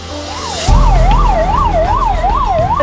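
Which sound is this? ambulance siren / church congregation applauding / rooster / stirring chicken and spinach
ambulance siren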